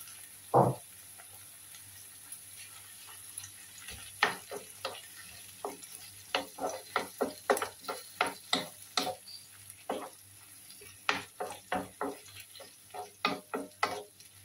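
Sliced squid sizzles in a pan of calamari pacham with celery while a utensil stirs it, giving quiet steady frying under a string of sharp clicking scrapes that speed up toward the end.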